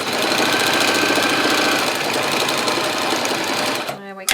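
Sewing machine stitching a toy pony's fabric mane, a fast steady close-up rattling whir running for about four seconds before it stops, followed by a brief voice.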